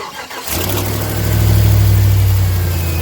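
A car engine cranks and catches right after a battery replacement, quickly settling into a loud, steady idle that rises briefly before easing back, close and continuous with no talk.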